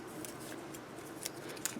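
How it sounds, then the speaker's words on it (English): Small scissors snip through paper during a scrapbook baby-book craft, a few faint, quick crisp cuts close by against a soft room hiss, with no one talking. "My little scissors."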